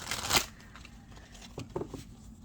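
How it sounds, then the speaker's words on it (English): Tarot cards being shuffled: one sharp, loud riffle burst, then a pause and a few softer, quick shuffling rustles close by. "They want me to continue shuffling."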